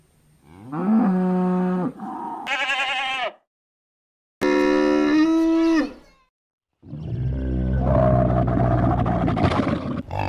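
Cattle moo in long, deep, loud calls, heard alone and close up, interleaved with other livestock bleats in a sequence of distinct calls separated by short silences.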